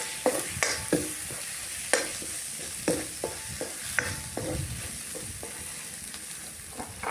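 Vegetables coated in sambar masala get stirred in a pan with frequent, close spatula scrapes and clicks over a soft, continuous sizzle.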